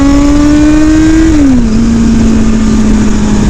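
A Yamaha FZ1 naked street motorcycle, 149 hp, accelerating hard from a standing start, its loud steady engine note climbing, dipping briefly at a gear change, then pulling on close up.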